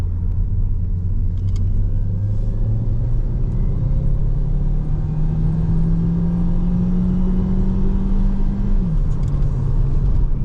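A Renault Megane 4 with the 1.3 TCe engine, modified, accelerating in manual mode from third gear, heard from inside as a loud steady engine drone that climbs in pitch for several seconds, then drops at a gear change.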